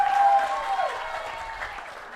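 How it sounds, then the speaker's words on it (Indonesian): Applause from a church congregation at a children's Sunday school and youth Christmas program, a short steady burst of clapping that tapers off slightly. "Tepuk tangan untuk kita semua."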